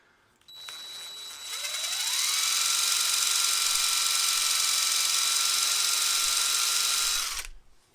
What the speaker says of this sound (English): I'm gonna have to ream this hole out